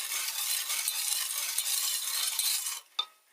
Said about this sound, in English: add this sugar here. And give it a quick stir.